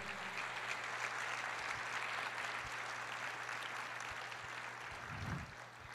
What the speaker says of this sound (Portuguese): Glória a Deus, aplauda ao Senhor.